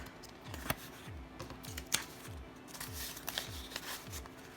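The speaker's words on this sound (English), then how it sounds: "So I'll put it in this beautiful floral cash envelope." Paper bills rustle and slide into a floral paper cash envelope in a quiet room, a series of soft, crisp shuffles and flicks with no talking.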